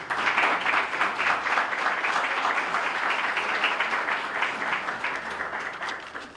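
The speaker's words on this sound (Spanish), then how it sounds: "pido un fuerte aplauso" A room full of people gives a strong, steady round of applause at a university lecture on critical thinking in higher education. Dense, continuous clapping fills the whole stretch and tapers slightly at the end.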